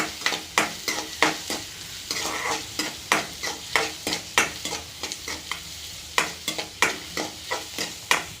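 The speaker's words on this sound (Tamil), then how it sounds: "தீய விடாமல் கிண்டிக்கோங்க" Potato bonda masala being stirred in a pan over the flame, with a steady run of close, sharp spoon scrapes against a faint sizzle and no voices.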